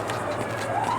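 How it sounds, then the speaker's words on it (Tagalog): A rising police siren wails through a police chase in GTA V, heard over steady engine and traffic noise for about a second, moderately loud and continuous. "Naririnig ko pa rin yung sirena."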